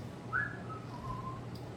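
A short, soft whistled tune, a single rising note that slides down and holds, faint against a quiet background hum.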